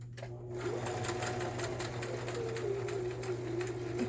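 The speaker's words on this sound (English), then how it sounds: "I'm having to sew at a diagonal" A sewing machine stitching fabric scraps together along a diagonal seam, a rapid, steady mechanical chatter with a constant motor hum, close and fairly quiet, running continuously.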